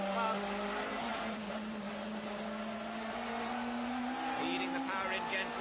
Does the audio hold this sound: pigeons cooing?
no